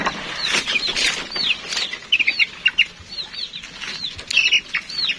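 Free-range hens clucking in short bursts with repeated wing flapping, close by, on a chicken farm with no talk.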